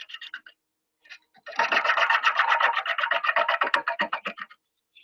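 Rhythmic rasping scrape of a tool cutting wood on a lathe with step pulleys while turning a winged vessel, a short burst of scratches followed by a steady, pulsing run of repeated strokes close by.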